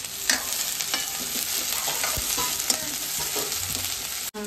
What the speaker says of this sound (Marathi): त्यानंतर तेलामध्ये कांदा भाजायचा आहे व्यवस्थित।